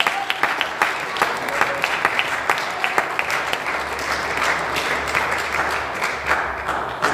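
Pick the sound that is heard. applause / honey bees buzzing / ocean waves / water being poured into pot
applause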